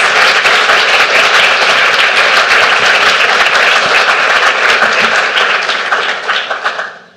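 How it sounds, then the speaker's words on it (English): Applause from a conference audience after a talk on moving from Node.js to Lua, a dense, loud wash of clapping that holds steady for several seconds and then fades away near the end. "please give a round of applause"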